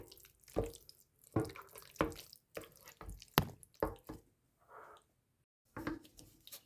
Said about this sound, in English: We're stirring this all up.